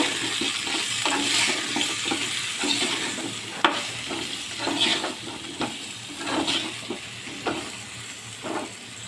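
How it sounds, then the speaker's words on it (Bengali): Fish seasoned with salt and turmeric is stirred in a sizzling frying pan, a steady close hiss broken by a regular series of scraping clicks from the spatula, with no talking. "ভালো করে নাড়াচাড়া করে নেব।"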